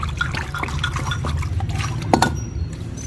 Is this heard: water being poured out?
yes